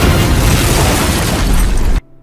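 A car explodes in a Korean drama scene, a huge sustained boom with roaring blast noise filling about two seconds before cutting off abruptly to near quiet.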